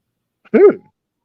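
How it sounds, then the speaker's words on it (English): A cat in a room gives a single short, loud meow that rises and falls, heard close by against silence. "So this cat is in here."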